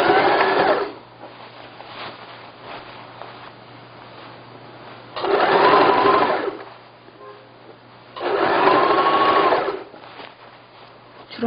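A sewing machine stitches fabric for a bed cover along a 1 cm seam allowance, running in three loud, steady bursts separated by quieter pauses.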